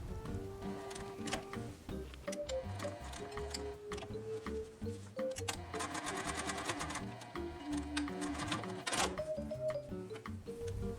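A sewing machine stitches and back tacks a pinafore dress, a rapid mechanical ticking chatter with short bursts and pauses, close and moderately quiet, with no talking.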